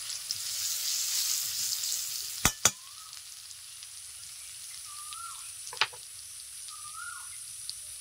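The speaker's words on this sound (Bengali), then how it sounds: "আমি তেলের ওপরে হলুদ দিয়ে দিচ্ছি" Turmeric sizzles in hot oil for a fish curry, giving a steady, close hiss with a few sharp clicks and pops partway through.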